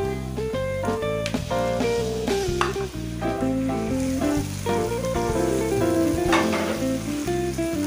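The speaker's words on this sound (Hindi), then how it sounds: "अब हम इसमें अपने गोश्त को शामिल कर देंगे।" Meat sizzles and fries in a pan with onions for aloo gosht, a steady crackling sizzle that sits under prominent background music throughout, with no speech.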